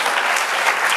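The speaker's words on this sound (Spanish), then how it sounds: "Dale otro aplauso al Señor." A church congregation applauds in steady, dense clapping that fills the whole moment at full volume, with no voices standing out.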